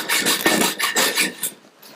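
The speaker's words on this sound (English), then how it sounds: "let's go ahead and cut this dowel" A wooden dowel is sawn by hand in a few quick rasping strokes, each a gritty rhythmic scrape, loud and close, easing off toward the end.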